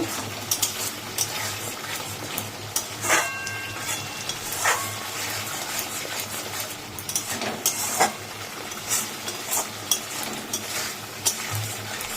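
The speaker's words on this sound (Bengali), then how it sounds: "নুন আর হলুদ দিয়ে এই যে মশলাটা কষাচ্ছি" Spice paste with salt and turmeric sizzles in oil for a fish curry while a utensil stirs and scrapes the pan, with steady frying hiss and repeated sharp metallic clinks close by.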